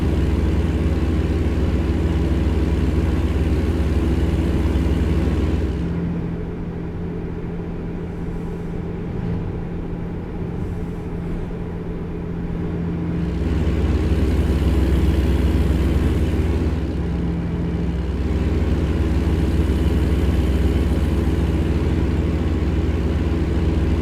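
Caterpillar engine of a Kenworth W900 truck in American Truck Simulator, a deep steady rumble that drones on with a mild rise and fall in load, loud and close with no voices.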